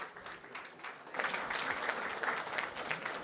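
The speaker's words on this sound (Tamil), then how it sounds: "நல்ல மனமார்ந்த கைத்தட்டல்களை கொடுத்து இன்னும் பல புத்தகங்கள் அவங்க எழுதுறதுக்கு உங்களோட கைத்தட்டல்கள் வழிவகுக்கணும்." An audience claps at a book launch held at the Sharjah International Book Fair, starting softly and then swelling into fuller, sustained applause with no speech over it.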